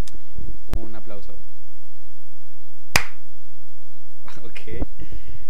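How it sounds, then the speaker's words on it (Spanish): One sharp, single hand clap rings out alone in a quiet room, with a person talking before it and again afterward. "ahora el primer sonido es, por favor, un aplauso"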